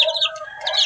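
A grown backyard chicken, raised from a chick, giving a short burst of close, high clucking and chirping calls.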